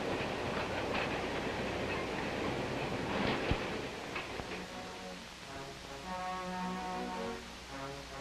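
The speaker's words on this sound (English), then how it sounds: "The train pulled into the station on time." A mail train pulls into a station, a continuous rumbling roar of rolling wheels with steady tonal squeals rising over the final seconds as it slows, loud and close, with no voices.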